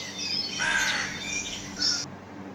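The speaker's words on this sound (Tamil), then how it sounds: "காகம்," A crow caws in a children's bird cartoon, giving a harsh, raspy call with a second shorter caw near the end, loud and close with no voices, before it stops sharply.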